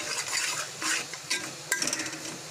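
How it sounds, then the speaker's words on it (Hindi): A spatula scrapes and stirs Schezwan chicken fried rice with vinegar in a pan, producing a series of close, quick metallic scrapes and clinks in short irregular bursts, with a faint sizzle between them. "और उसे स्टर कर देंगे, और इसमें हम विनेगर भी ऐड करेंगे।"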